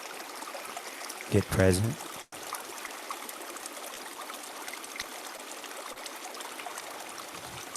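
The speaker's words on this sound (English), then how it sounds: "And just listen to the sound of the water." Gently flowing water runs steadily throughout at low level, with a brief spoken phrase over it early on.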